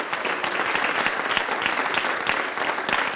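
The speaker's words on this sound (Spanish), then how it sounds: "denle un aplauso al Señor" A church congregation standing and clapping during a worship service, continuous thick applause that stays even in loudness from start to end, with no speech over it.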